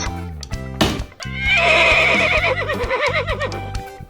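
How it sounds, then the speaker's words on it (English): A horse gives a loud, close whinny that rises and then shakes in a quavering neigh, with soft hoof clops and background music around it. "horse"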